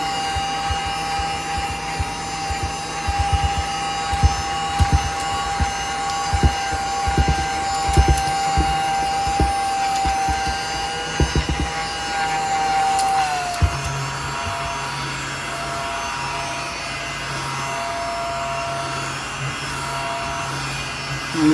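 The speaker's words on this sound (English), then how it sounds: "Is my little desktop vacuum." A small desktop nail dust vacuum runs steadily at a manicure desk with a latex mat, giving a continuous close whir with a faint pitch shift midway, plus scattered light taps and clicks from handling.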